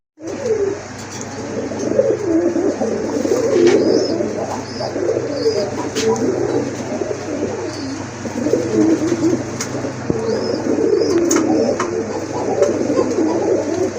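A pair of deep red Gola fancy pigeons with snake eyes coo repeatedly in a steady, rolling murmur, close and continuous with faint chirps scattered through.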